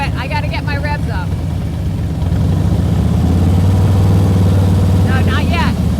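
A practice motorcycle's engine runs loudly and close, with a low throbbing idle that climbs to a stronger, steadier revving tone midway. A person speaks at the start and again near the end.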